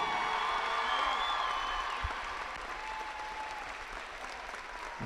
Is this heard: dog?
no